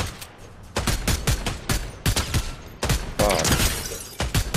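Rapid, overlapping gunshots crackle through a Fortnite match, dense bursts of sharp cracks with brief gaps, loud and close, with a short exclamation from a player.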